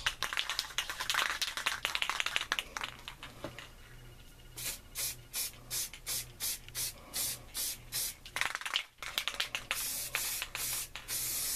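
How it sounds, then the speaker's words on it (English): Flat black Rust-Oleum spray paint hisses onto a hatchet in a string of short, even bursts close to the microphone, each spray stopping and starting in a steady rhythm, after some rubbing and handling noises. "Just a little bit of flat black Rust-Oleum."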